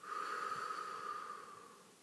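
A slow, deep breath made in a calm breathing exercise for emotion regulation, a single long airy exhale that fades out steadily, soft and close.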